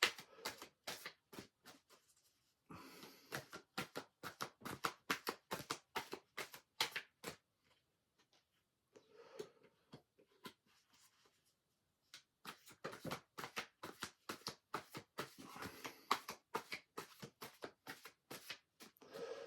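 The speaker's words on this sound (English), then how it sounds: "So I'm just shuffling again because I want to keep these at 10 minutes each section." Tarot cards are shuffled by hand in quick, crisp bursts of riffling. Two long runs of shuffling are split by a short lull, all quiet and close, with no talking.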